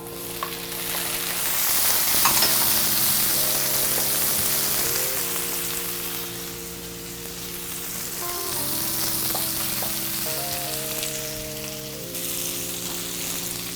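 Halved grape tomatoes and seeded fresh jalapenos fry in a pan, a steady loud sizzle with occasional stirring, while quiet music with sustained tones plays underneath and no one speaks.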